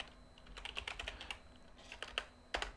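Clicks of a computer keyboard as a load command is typed into the PICO-8 fantasy console, a quick run of close, light keystrokes in uneven bursts with short pauses.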